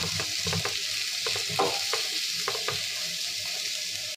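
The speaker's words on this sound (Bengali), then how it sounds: "পেঁয়াজটা একটু ভাজা ভাজা করি।" Onions sizzle in a hot pan, with a few scraping stirs of a spoon against the metal. Steady and close, with no voices.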